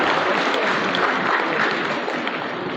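An audience claps for children at a school and educational society's 33rd anniversary award ceremony: dense, continuous applause from many hands, loud and close, filling the whole moment without voices.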